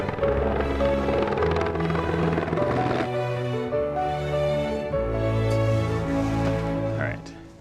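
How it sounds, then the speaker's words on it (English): A helicopter's engine and rotors drone loudly and steadily from inside or right beside the craft, a dense low rumble with layered tones that shift pitch slightly throughout. "So we're gonna go into a helicopter."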